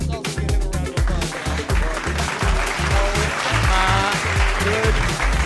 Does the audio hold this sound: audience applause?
yes